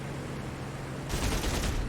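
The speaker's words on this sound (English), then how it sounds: "trying to avoid that return fire, which is still coming at me here" Defensive gunfire from a B-17 bomber formation in the DCS flight game erupts partway through, a loud rapid fusillade of crackling shots over a steady engine drone, with no voices.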